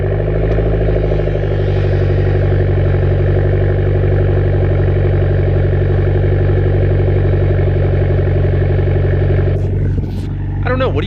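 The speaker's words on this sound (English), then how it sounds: "So now here's a cold start on my 2010 EVO 10, and it's a little bit quieter, not as race car like" A 2010 Mitsubishi Lancer Evolution X cold-starts and settles into a steady, fairly quiet idle, droning evenly for several seconds before a brief shift near the end.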